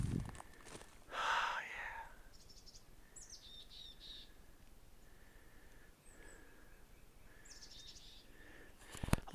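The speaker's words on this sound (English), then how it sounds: "Western mountain chickadees. Poecile gambili abbreviatus. That's what those are." Mountain chickadees call on Palomar Mountain in the Cleveland National Forest, among canyon live oaks and bigcone Douglas firs: several faint, high, brief chirps at a distance over quiet outdoor ambience, with a few soft rustles and footsteps.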